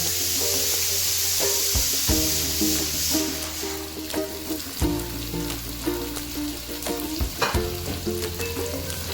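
Onions or masala sautéing in a pan after fish has been fried, a steady sizzle with repeated stirring scrapes and knocks, layered over background music with faint talk.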